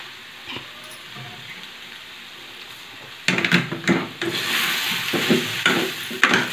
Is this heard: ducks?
no